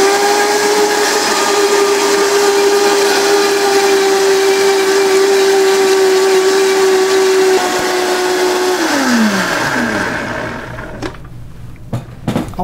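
A kitchen blender whirs loudly while blending a creamy fenugreek dressing with oil, a steady high motor whine that holds for several seconds, then winds down, ending in scattered clicks and knocks.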